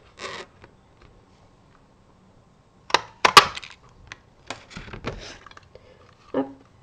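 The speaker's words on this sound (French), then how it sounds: "Allez, je prends ma perfo. Je coupe mon étiquette." A handheld paper punch clicks and scissors snip through a paper label in short, sharp, close bursts separated by quiet pauses, with no talking.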